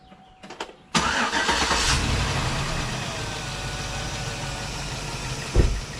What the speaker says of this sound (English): And then we'll go start the engine up and let it run for 20 minutes,